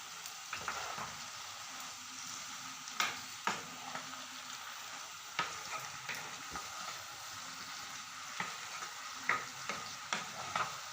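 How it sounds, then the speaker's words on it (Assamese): Pui saak (Malabar spinach) vegetables cook in a pan after water is added, a quiet, soft simmering sizzle broken by regular clinks and scrapes of a stirring spoon. "অকণমান সিজিবলৈ পানী দি দিছোঁ"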